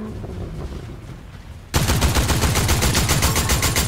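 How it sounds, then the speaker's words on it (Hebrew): Video game gunfire bursts in suddenly after a quieter lead-in, rapid automatic shots hammering out in a dense, loud, continuous stream up close. "יורים עליי"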